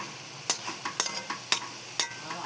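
A spoon stirs pea and potato curry sautéing in a pan, with a steady sizzle and four sharp scraping clinks against the pan at roughly half-second intervals, close and alone without talk.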